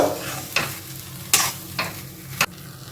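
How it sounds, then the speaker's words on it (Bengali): A spoon scrapes and stirs sugar through a potato filling for aloo kochuri in a pan, a few distinct strokes at uneven intervals over a soft, steady sizzle, close by. "এবার চিনিটা কিন্তু আমি সুন্দর করে মিশিয়ে দেব"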